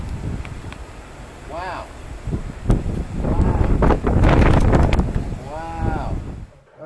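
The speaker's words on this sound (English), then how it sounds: "It was just a lot of wind, a lot of rain." Strong wind and rain batter a microphone outdoors in Midtown Atlanta during a tornado watch, a loud continuous rushing roar as a person speaks briefly over it.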